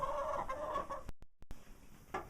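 Chickens cluck on a farm with goats nearby, a few soft clucks and calls in the first second, then brief quiet and clicks, and another faint cluck near the end.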